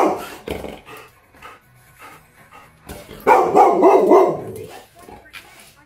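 A dog barks and growls at a TV commercial indoors, loud bursts scattered through the clip with a heavier run of barking midway, over quiet room sound.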